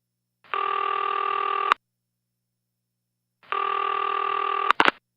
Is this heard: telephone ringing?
yes